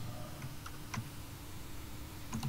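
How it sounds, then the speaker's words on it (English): Light mouse clicks and keyboard taps during an online bingo game session, scattered faint ticks over a low steady room hum, with no one speaking. "I hear an awful lot of clicking."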